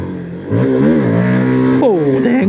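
A Voge FR150 motorcycle fitted with a Tuneboss ECU revs up loudly and close by, its engine pitch rising and falling in several strong sweeps before a final sharp climb.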